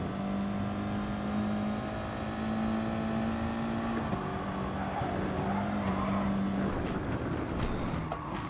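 A race car engine drones steadily at high revs in Gran Turismo Sport, its pitch dropping with an upshift partway through and then climbing again, with faint tire noise and no talking.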